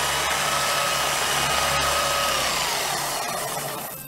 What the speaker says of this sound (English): If I put it in the polisher, it'll buff up in no time.